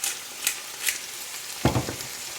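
Stir fry seasoned with Chinese five-spice and black pepper sizzling steadily in a pan, a broad hiss with a few sharp bursts and a low thump of stirring near the end.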